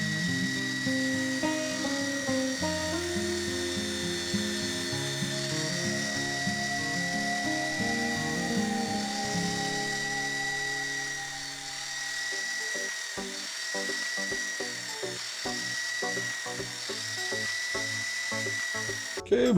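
A resin and wood ring is sanded on a power sander that runs with a steady high-pitched whine and buzzing motor drone, shifting in pitch as the piece is pressed against it, with no talking.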